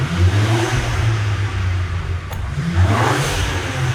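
BMW car engine revving twice, the rises and falls sounding muted and mid-pitched, fairly loud and close with no talk.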